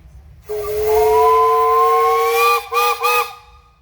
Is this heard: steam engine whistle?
yes